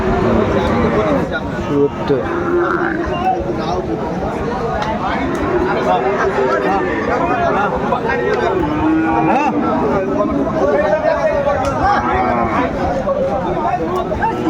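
Sahiwal bulls and other cattle moo at a busy livestock market, deep lowing calls rising repeatedly over constant crowd chatter, with people talking and bargaining close by.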